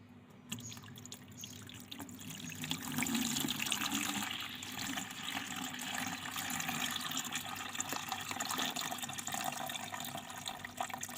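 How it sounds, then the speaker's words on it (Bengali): Banana peels soaked as a liquid plant feed are strained, a steady trickle and pour of liquid running continuously with faint drips, moderately close and without voices. "প্রথমে আমরা কলার খোসাটা ছেঁকে নিই"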